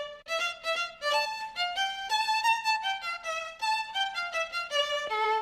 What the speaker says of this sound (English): the violins sound like this